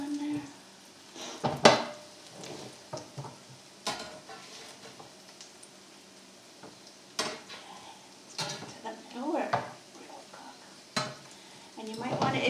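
Smashed potatoes cooking in oil in a pan, a soft background sizzle broken by scattered clanks and scrapes of a utensil against the pan, fairly quiet and uneven.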